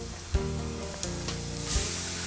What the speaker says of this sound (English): the garlic, we want to saute in the oil till it gets to a golden brown